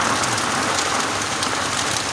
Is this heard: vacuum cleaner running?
no